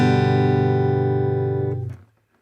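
A single guitar chord strummed once, played with the third finger lifted off, rings out loud and sustained on its own for nearly two seconds, then is cut short and goes silent.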